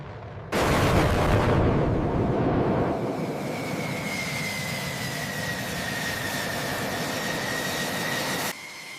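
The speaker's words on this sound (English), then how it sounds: "With afterburners engaged, the aircraft showcases incredible speed." F-16 fighter jet taking off with afterburners engaged at low light, a loud sustained roar that bursts in abruptly, stays powerful with a steady rising whine, then cuts off near the end.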